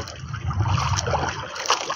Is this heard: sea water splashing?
yes